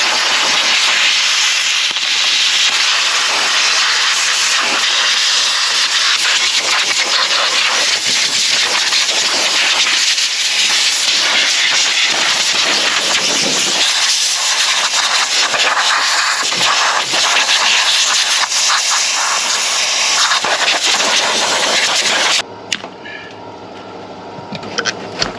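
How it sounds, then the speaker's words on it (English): Loud, steady blast of compressed air hissing continuously for a long stretch as it blows dirt off a supercharged two-stroke Detroit Diesel engine, then cutting off abruptly near the end. "let's blow all the crud off of this thing"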